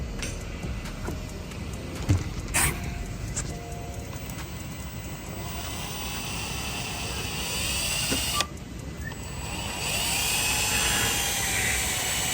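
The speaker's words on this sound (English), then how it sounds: "So the reason there's tape, it's so that the drill bit doesn't go further than it needs to go." A drill bores into a billet exhaust manifold for a BMW B58 engine, giving a continuous whining grind with a few sharp spikes and a slight rise in intensity toward the end.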